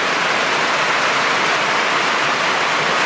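Steady, dense rain hiss fills the whole stretch, loud and unbroken, with no voices.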